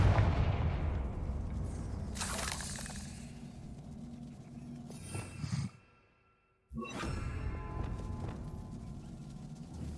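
Confringo fire spell blasts in Hogwarts Legacy during a fight with a troll: several loud booming bursts with whooshing tails, then a brief near-silence and another sharp blast.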